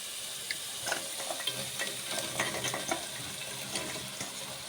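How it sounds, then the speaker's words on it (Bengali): Fried potatoes tipped into a pan and stirred, with a steady sizzle under scattered scraping and clinking of a spoon against the pan; no talking. "আমরা এখন ভাজা আলু দিয়ে দিচ্ছি।"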